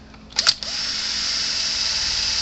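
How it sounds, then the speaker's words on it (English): A power drill bores a hole in the side of the case of a 36-year-old Gallagher BEV3/M800 fence energizer: a few quick clicks and bursts, then a steady, close, high-pitched whine that continues to the end. "I'm going to drill a hole in the side of this case"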